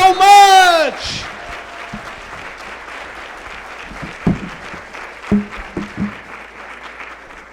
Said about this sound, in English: round of applause for Visions for putting on a phenomenal day